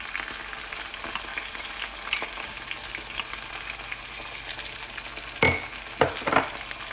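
Onions and ginger-garlic paste frying on a tawa for beef, a steady close sizzle with occasional clinks and stirring scrapes toward the end, no talk.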